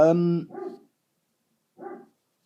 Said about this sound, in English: Bloody Doberman barking it off.